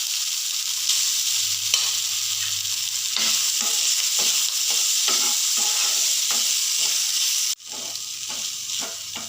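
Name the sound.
bitter gourd frying and being stirred in pan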